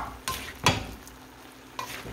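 Shrimp chop suey with vegetables being stirred in a hot pan: soft continuous sizzling broken by a few scraping, clattering strokes of the utensil, close and fairly quiet, with no voices.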